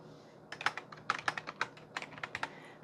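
A password is typed on a computer keyboard in a quick, uneven run of light key clicks, close and fairly quiet, with no talking.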